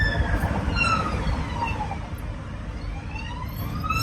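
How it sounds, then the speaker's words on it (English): An ambulance siren wails in rising and falling sweeps, moderately close, over steady traffic rumble in Ghana, with no talking. "There's an ambulance coming."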